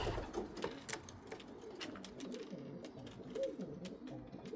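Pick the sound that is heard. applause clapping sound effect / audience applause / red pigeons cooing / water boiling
red pigeons cooing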